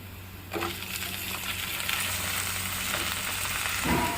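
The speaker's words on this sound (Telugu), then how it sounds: "ఇప్పుడు ఈ వంకాయ ముక్కల్ని ఉల్లిపాయల్లో వేసుకోవాలి" Brinjal pieces sizzle as they fry with onions in a pan, a steady close crackle with a couple of light clinks from a utensil near the start and end.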